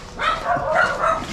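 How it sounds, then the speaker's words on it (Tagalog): Several dogs bark and yip nearby in quick overlapping bursts, fairly loud and continuous for over a second, with no talking. "Maingay yung mga aso."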